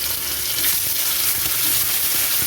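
Ginger paste fries in hot oil with bay leaf and garlic paste, a loud, dense, continuous sizzle that crackles without pause from start to end, with faint scraping as it is stirred.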